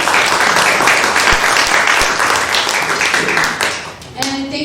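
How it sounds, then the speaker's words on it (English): Applause at a May resident forum, a broad wash of many hands clapping steadily for several seconds before fading out near the end. "I just want to give her another round of applause."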